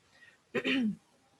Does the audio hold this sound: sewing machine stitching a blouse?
no